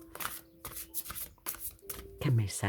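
Oracle cards shuffled and one drawn: several brief papery riffles and flicks up close, ending in a fuller rustle, with a person talking softly alongside.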